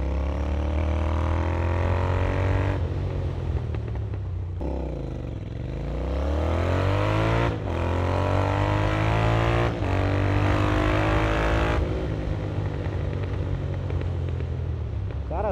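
A Royal Enfield Interceptor 650 with a JBK exhaust revs loudly and close by, its engine note swelling and falling through several throttle blips that dip and climb again, with no talk over it.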